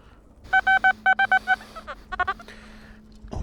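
A metal detector's electronic signal at a swimming beach sounds as a quick series of short, bright beeps, followed by a few fainter, choppier tones.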